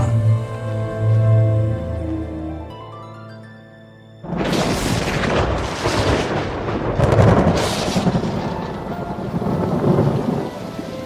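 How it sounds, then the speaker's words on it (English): A violent thunderstorm breaks over an ancient plain after a quiet opening, with loud, close thunder crashes and a heavy roar of rain that keeps building through the rest of the clip. "the storm of the millennium strikes without warning"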